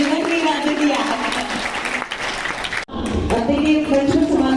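Audience applause in a hall after a stage performance at a student event, a broad sustained wash of clapping with a voice speaking over it and a brief dip near the end.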